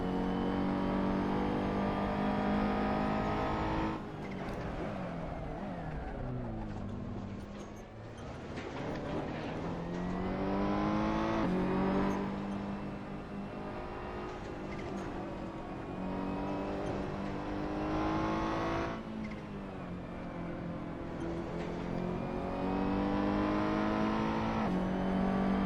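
A race car laps a circuit, its engine climbing through the gears and dropping sharply on braking several times, loud and steady as if heard from onboard.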